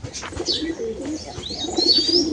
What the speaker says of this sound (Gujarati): જોઈ શકો છો બધા કબૂતર આપણા નીચે આવે છે